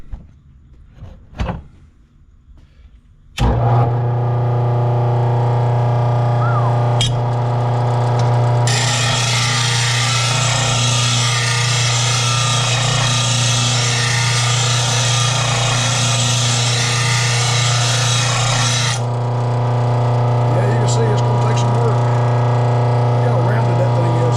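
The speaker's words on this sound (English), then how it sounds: "And then I'll put it in the vise and use the hand grinder" An angle grinder sharpens a John Deere S100 riding mower blade clamped in a vise: a loud, steady motor whine that rises into a harsh, bright grinding roar for several seconds, then falls back, close up and continuous.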